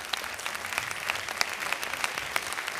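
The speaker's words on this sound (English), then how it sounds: "A big round of applause. Keep it going." An audience at an artists' performance event claps in a dense, quick, even patter that runs steadily throughout.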